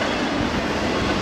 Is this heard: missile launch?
no